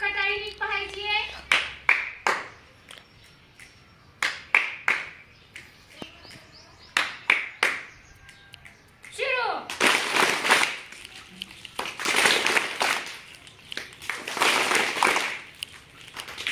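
'Tak' hand clapping in a classroom clapping game, sharp single claps at first, then denser bursts of children clapping together, with a teacher's voice talking between them.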